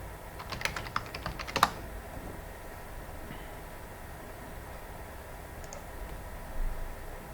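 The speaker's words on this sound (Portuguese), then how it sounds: "aqui embaixo a gente vai digitar um textinho" Quick bursts of keystrokes on a computer keyboard tap out text, a cluster of clicks early on followed by quieter room hum and a few isolated taps, recorded close with no speech.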